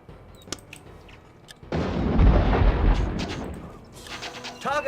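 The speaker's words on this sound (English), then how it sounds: "They're shooting at my cannon." Cannon and gunfire on a battlefield in the Warhammer Dark Omen video game, a faint shot followed by a loud, rumbling barrage of booms that swells and slowly fades, with no talk over it.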